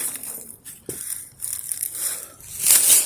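A slingshot stone strikes a glass set up in a park, giving a sharp crunching crack and then a bright, brief spray of shattering glass outdoors, with light rustling around it.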